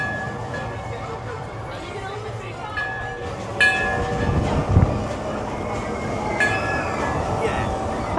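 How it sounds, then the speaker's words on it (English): Runaway Mine Train family roller coaster at Alton Towers in the rain, a steady rumbling roll of cars on track with metallic clanks and a few rattling bursts, heard from nearby alone. "That was the Runaway mine train that we've just been on."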